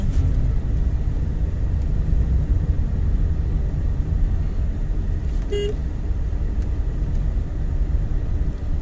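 A vehicle on a sloped road through a tea estate, with a steady, loud engine and road rumble that fills the whole stretch. A brief horn-like toot sounds near the middle.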